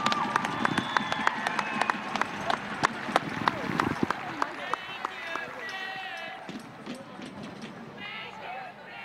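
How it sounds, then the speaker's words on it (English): Stadium crowd at a Chicago Red Stars women's soccer match, Chicago Red Stars vs. Seattle Reign FC, applauding and cheering at halftime with sharp claps, whistles and shouts, steady and fairly loud throughout, with voices mixed into the noise. "Fans, another round of applause for Julianne Sitch."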